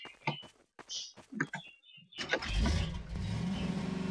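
A car in Garry's Mod starting up and accelerating, a steady engine drone that builds and holds after a few seconds of scattered clicks and brief voice sounds.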